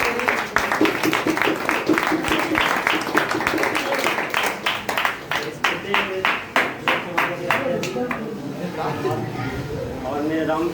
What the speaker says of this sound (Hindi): ताली बजाइए जी